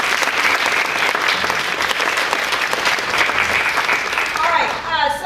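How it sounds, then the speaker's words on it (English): A round of applause from an audience at a Q&A gathering: dense, sustained clapping filling the room for several seconds, fading near the end as a voice begins. "let's give him a round of applause"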